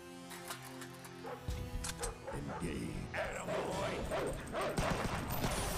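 Dogs in a video game bark and yip in quick bursts, loud and close, with a voice talking over them and other game sounds mixed in.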